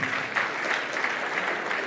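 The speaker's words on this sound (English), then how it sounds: "Another round of applause, ladies and gentlemen," Steady applause from a conference audience at a foundation summit, continuous and fairly close, filling the whole stretch without talk.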